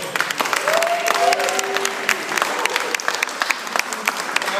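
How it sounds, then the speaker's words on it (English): A crowd at a York City victory parade applauds steadily, dense outdoor clapping with a few cheers and whistles rising above it. "We all give him a round of applause as well."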